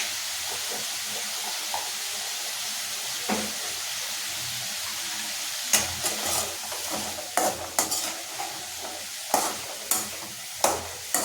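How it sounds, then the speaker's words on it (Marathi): Bottle gourd sabzi stirred in a pan after salt goes in, with a soft continuous sizzle and, in the second half, a run of sharp scraping strokes of a spatula against the pan. "मीठ टाकून झालं की छानपैकी अशी परतवून घ्यायची."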